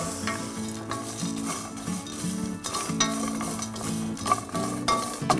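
Spices for a hror blend get a brief heating in a pan, giving a steady sizzle with stirring and scraping against the pan, mixed under continuous background music.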